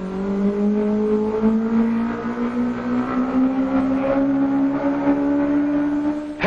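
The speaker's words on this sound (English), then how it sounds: "on a lake in Florida, where an outboard goes round and round" An outboard motor drones steadily as a boat circles on a Florida lake, its pitch rising slowly and evenly with no voices over it.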